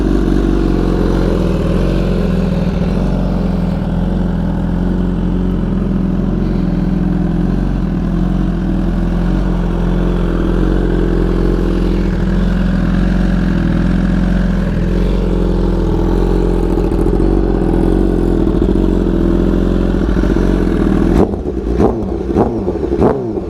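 A BMW S1000RR motorcycle engine idles loud and close, a steady low droning rumble held for over twenty seconds before it breaks into a few sharper choppy pulses at the very end.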